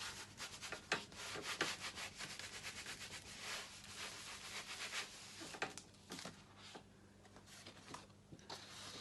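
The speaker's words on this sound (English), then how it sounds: "I'll just rub a bit more on the bottom there." Paper being rubbed over an inked lino printing plate by hand, giving soft, irregular scratchy strokes that come in short bursts, close and fairly quiet, with no talking.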